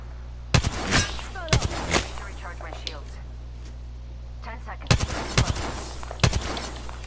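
Gunfire from the video game Apex Legends, several sharp broadband shots in short bursts spread across the clip, mid-distance, with quiet voice-like chatter between them.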